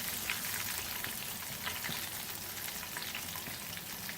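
Chicken pieces for crispy fried chicken sizzle steadily in hot oil, a dense, even crackle with small pops that holds at a constant moderate level throughout, with no voices.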